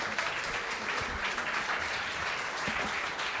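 An audience at a literary evening event applauds as guests leave the stage, a steady roomful of clapping at moderate distance throughout.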